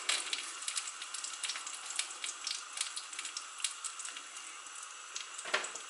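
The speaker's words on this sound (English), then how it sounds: "let's dump everything in" Ingredients dumped into a pot turned down to a simmer produce a steady, faint, crackly sizzle and wet bubbling throughout, with a slightly louder splash near the end.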